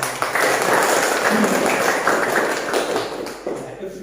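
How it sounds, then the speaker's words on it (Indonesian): Classroom audience clapping, a dense burst of many hands applauding steadily for a few seconds and fading slightly toward the end. "kasih tepuk tangan"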